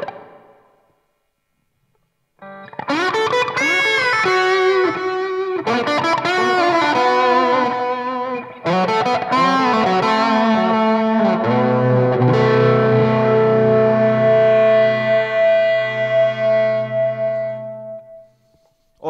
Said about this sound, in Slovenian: Naslednji zvok, ki ga bom pa predstavil, pa je lead kanal in na tem kanalu bom tudi dodal nekaj efektov.